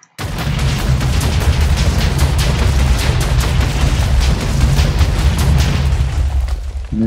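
Rapid automatic Mini UZI fire in a modded Minecraft survival game, a dense, continuous burst of booming digital shots running several seconds at high loudness, with no talk over it.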